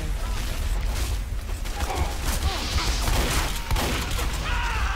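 Rapid gunfire crackles through a dense, noisy video game battle, bursts of shots overlapping with booms and mechanical clatter in a continuous loud wash.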